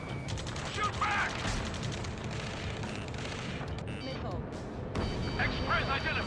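Ace Combat 7 ground battle gunfire, a dense continuous wash of shots, booms and machinery with shouted radio voices over the top.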